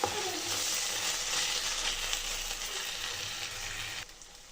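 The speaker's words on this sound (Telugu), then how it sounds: "ఈ నెయ్యినంతా బాగా కలుపుకోవాలండి. కలుపుకొని కొంచెంసేపు కుక్ చేసుకోవాలి." Sweet poha sizzles steadily in ghee in a pan, with a continuous close frying hiss and soft stirring scrapes, then a sudden drop in level near the end.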